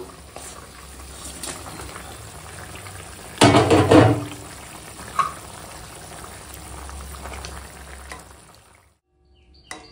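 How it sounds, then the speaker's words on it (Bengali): Rohu fish pieces dropped into a boiling curry of ridge gourd, papaya and drumsticks, with a loud splashing burst of sizzle partway through over a steady low simmer, ending in near silence. "তো দেখো এখন ঝোলে জাল উঠে গেছে। আর এখন এই মাছগুলো দিয়ে দেবো।"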